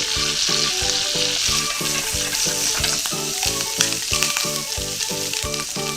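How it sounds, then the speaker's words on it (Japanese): Bacon and crushed garlic fry together in a pan over gentle medium-low heat, making a loud, continuous crackling sizzle up close with light stirring. "あと同時にここでベーコンを炒めていきます。"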